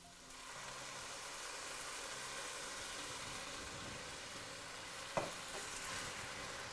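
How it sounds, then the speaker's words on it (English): Steady broadband sizzling of vegetables frying in a pan, with a brief clink of a utensil partway through; no voices. "You can hear that nice sizzle going."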